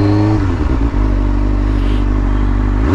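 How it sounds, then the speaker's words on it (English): Motorcycle engine revving close and loud while downshifting, a steady rumbling drone that dips briefly, then climbs in pitch again at the end as throttle is added. "Clutch in, shift down, a little bit of gas."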